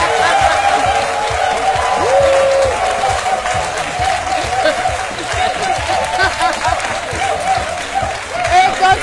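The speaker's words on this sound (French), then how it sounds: "Elle s'appelle Eudoxie Yao, que je vous demande d'applaudir très fort." A studio audience applauds steadily, a dense wash of clapping with some cheering mixed in, loud and sustained throughout.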